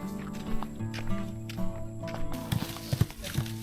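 A large farm horse walks in the countryside, hooves clip-clopping in an uneven, close series of hollow knocks under a steady background hum, with a few louder hoof strikes near the end.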